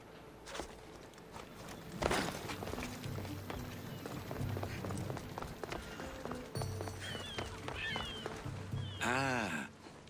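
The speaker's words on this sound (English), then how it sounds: "I could hear your footsteps." Running footsteps and horse hooves clip-clopping in the game Assassin's Creed Odyssey, with steady rapid steps over ambient game sound, a horse whinny near the end and some voice in the background.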